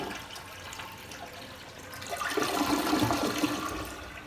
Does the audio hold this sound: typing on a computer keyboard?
no